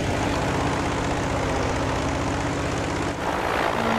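An American propeller plane in Battlefield V drones with a loud, steady engine roar during flight, with a brief dip near the end.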